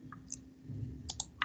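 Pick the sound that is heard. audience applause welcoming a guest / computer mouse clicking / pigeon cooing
computer mouse clicking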